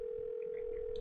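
Telephone dialing in a Nancy Drew video game: a steady dial tone hums throughout, with a few soft keypad beeps sounding over it and a brief click at the very end.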